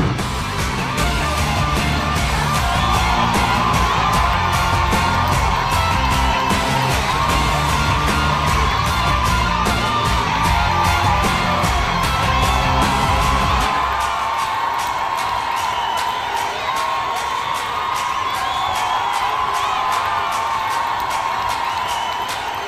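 A stadium crowd cheers wildly after a game-winning play, a dense, sustained roar of whoops and yells at steady loudness throughout. The low rumble thins out partway through.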